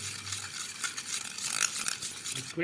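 A mixture of baking soda, Surf powder and Vim liquid is stirred together for cleaning a mixie, with soft scraping and wet swishing and a few light clinks, fairly close and unhurried.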